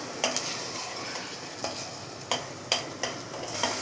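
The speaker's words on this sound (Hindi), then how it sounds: "इसे भी हम फ्राई कर लेंगे तकरीबन 5 मिनट तक।" Ginger garlic paste and beef frying together, a soft steady sizzle with periodic spoon scrapes and clinks against the pot as the mixture is stirred, fairly quiet and close, with no voices.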